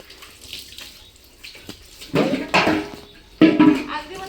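Water runs from a tap in two or three loud, gushing bursts after a quieter start, close by, with household clatter and a voice nearby.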